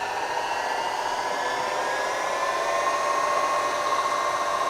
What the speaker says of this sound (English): You can hear right now it's in the low gear. The head sounds really nice.